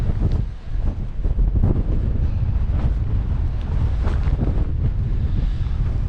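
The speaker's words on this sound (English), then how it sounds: "That is a cold wind" Cold wind blows across open farmland, buffeting the microphone in a loud, continuous roar with gusty swells and no pauses.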